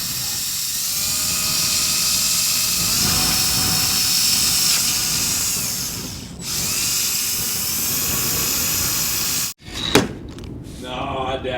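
A drill bit bores out a hole in an automatic transmission valve body, a steady high-pitched whine that holds for several seconds, dips briefly, resumes, then stops abruptly, followed by a few handling clunks.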